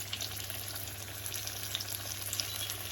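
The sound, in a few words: floured red mullet fish frying in hot oil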